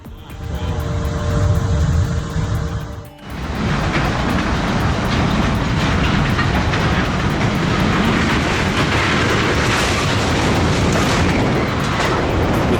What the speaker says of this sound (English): The freight train slammed into an 18-wheeler that was stuck on the tracks in Texas.